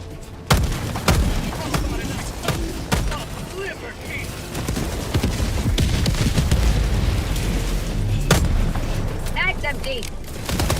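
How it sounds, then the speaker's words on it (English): Orbital strike and gas strike barrages in Helldivers 2 boom heavily amid sharp gunfire bursts, with repeated loud impacts and crackling explosions across the span while players talk over the battle. "Requesting orbital strike."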